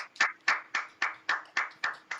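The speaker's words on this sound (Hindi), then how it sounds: "एक बार जोरदार ताली फ्रेंड्स" Eight evenly spaced claps ring out in a steady rhythm, sharp and fairly close, with no voices.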